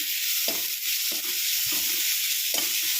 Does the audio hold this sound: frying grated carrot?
yes